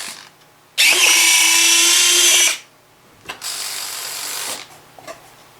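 Retractable tailwheel on an FMS P51 model plane cycling twice, each run a loud whirring servo-gear grind lasting a second or two, with a short click between and faint clicks after.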